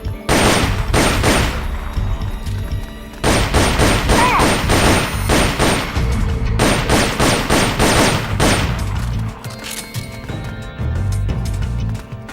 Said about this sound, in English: I'm shooting him, but my bullets are straying off.